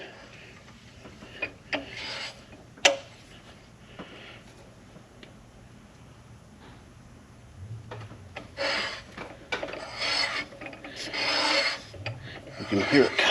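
Counterbore cutter tool being turned by hand in the block of an ISX Cummins diesel engine, a dry rasping scrape that is faint and hesitant at first, then grows into louder repeated cutting strokes near the end.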